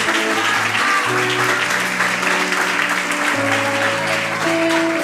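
Congregation applauding during a church worship service, a broad, steady wash of clapping that stays loud throughout, with sustained organ or keyboard chords held underneath and changing pitch.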